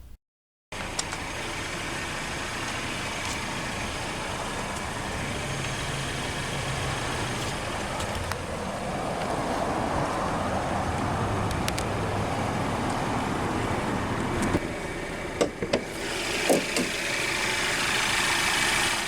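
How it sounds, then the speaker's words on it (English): A 2016 Mercedes-Benz SLK 300 with the M274 2-liter turbocharged inline-4 idles in a steady, even drone after a brief silence, close and constant, with a few faint clicks near the end and no talk. "The SLK 300 gets its power from the M274 2-liter turbocharged inline-4 engine."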